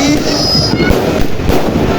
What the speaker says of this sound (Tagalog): nagpapaputok na po mga ka-Super T kasi marami yatang paputok tong kuya ko